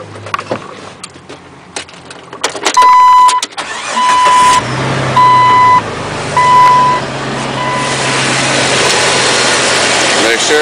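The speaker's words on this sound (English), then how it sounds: "Start the engine, let it run for a little while." A car engine runs after a fresh oil change, idling steadily and loud at close range while repeated warning beeps sound partway through and a broad rushing noise swells toward the end.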